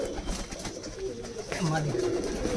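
Low, soft cooing of Giribaz pigeons in a loft repeats several times close by, over a steady background murmur.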